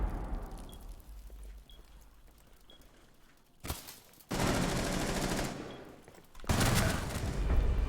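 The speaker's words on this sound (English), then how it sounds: "What is he shooting that with? What is that? Weird suppressed weapon type deal?" A strange suppressed weapon firing in a video game, heard as long, dense bursts of rapid shots that start abruptly and repeat after brief gaps, loud and close, with no speech.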